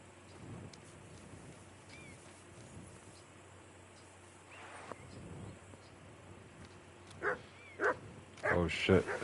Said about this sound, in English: Oh shit, a wild dog.